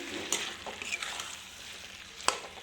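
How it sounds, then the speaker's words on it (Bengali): Chicken sautéing in a pan, a soft hissing sizzle with a few sharp clicks and scrapes of a spoon stirring, quiet and close, no talking. "দেখো একটু চিকেন কষাচ্ছি"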